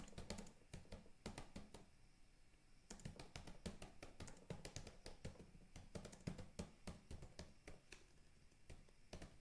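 Typing on a computer keyboard: quiet, close clusters of rapid key clicks with a short pause partway through, heard alone without speech.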